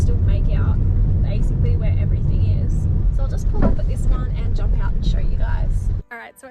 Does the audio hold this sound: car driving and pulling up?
yes